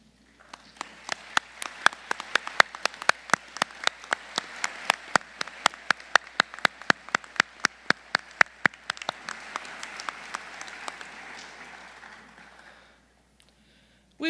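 A crowd applauds faculty at a College of Pharmacy hooding ceremony, an even patter of many hands punctuated by sharp, rhythmic louder claps, sustained for about twelve seconds before fading to quiet.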